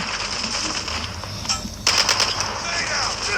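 Rapid bursts of gunfire in Call of Duty crackle loudly over a dense, noisy game soundtrack.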